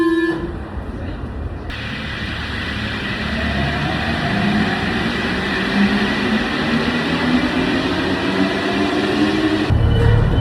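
A Paris metro train passing: a low, rolling rumble that builds steadily and grows louder toward the end, with some speech in the background.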